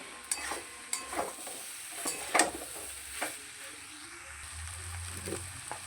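Potatoes and apple snails fry with spices in a pan, a steady low sizzle broken by sharp scraping stirs and clinks of the spoon, close and moderately loud with no talk.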